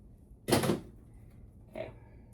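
Two crisp snips of scissors or cutters through wreath material during Easter bunny wreath crafting, a loud first cut followed by a softer second one, close up and with no talking.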